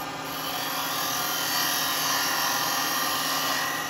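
A woodturning lathe cutting a wooden baby rattle gives a steady, loud, broadband whirring hiss with an even tone, continuous for the whole stretch and with no voices over it.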